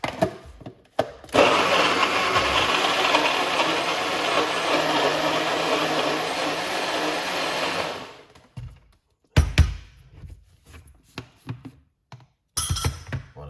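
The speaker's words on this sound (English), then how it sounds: "blend it down a little bit because it's gonna be too much in the blender" A blender whirs loudly and continuously for several seconds, grinding beetroot, then shuts off, followed by a few clunks and knocks.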